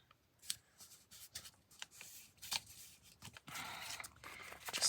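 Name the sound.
folding paper for an envelope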